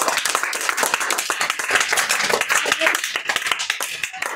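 A group of schoolchildren in a free government-school class applaud a classmate's full marks with a steady run of scattered, close hand claps. Voices talk now and then over the clapping.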